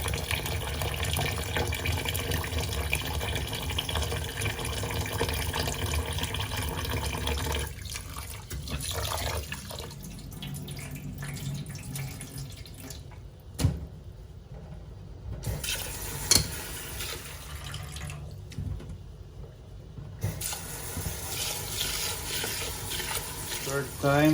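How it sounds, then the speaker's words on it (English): Tap water pours steadily into a bowl of rice being rinsed in a kitchen sink, a loud continuous gush that thins and changes pitch partway through, then picks up again, with no talk. "Third time I rinse the rice, then leave it until the remaining water is gone."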